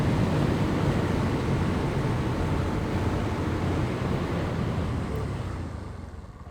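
A Bajaj Pulsar NS 160 motorcycle (2021) cruising at about 70 km/h, heard as a loud, steady engine drone mixed with heavy wind rush that stays constant before easing slightly at the end; no one talks.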